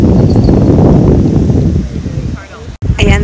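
Strong gusty wind roaring across the microphone at a breezy beach, loud and blustery before easing off, with someone talking over it near the end.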